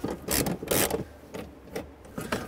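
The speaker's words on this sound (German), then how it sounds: "Da unten drin verbirgen sich jetzt noch 2 Schrauben. Die müssen wir lösen." Ratchet loosening two screws beneath a newly fitted subwoofer in a 2018 Audi A4 Avant B9 with a B&O sound system, giving several short bursts of clicking and rubbing, close by, with no talking.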